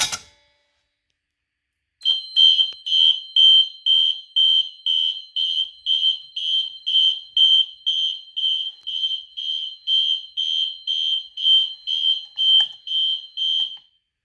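After a pull station is pulled, a System Sensor 2424 fire alarm sounds a steady run of rapid, evenly pulsed high beeps, loud and close, continuing for about twelve seconds with no talk.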